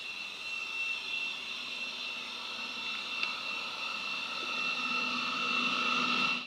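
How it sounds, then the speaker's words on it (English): A Eureka J15 Ultra robot vacuum runs with a steady, even whirring hum and airy hiss, holding constant throughout with a slight swell near the end, no voices. "you would be hard pressed to tell the difference between this vacuuming and your average robot vac"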